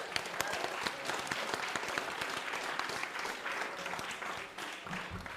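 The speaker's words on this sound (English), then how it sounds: "Round of applause, please." Steady, dense applause from a live podcast show audience, sustained for several seconds with no one speaking and only a slight dip near the end.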